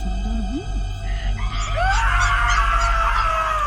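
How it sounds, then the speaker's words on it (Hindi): A man screams loudly in a Hindi horror audio drama about the Kuchisake Onna, a rising, sustained cry over a low engine drone inside a car. "अमन चीखता हुआ कार आगे बढ़ा देता है।"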